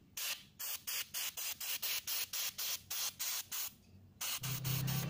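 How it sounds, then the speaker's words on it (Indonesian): Compressed air or spray is blasted onto a Honda PCX scooter air filter after it has been washed in gasoline, in a rapid series of about a dozen short, regular hissing bursts, close and loud, followed by a longer steady hiss. "Lanjut kita semprot."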